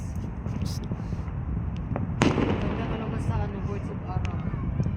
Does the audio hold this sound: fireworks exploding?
yes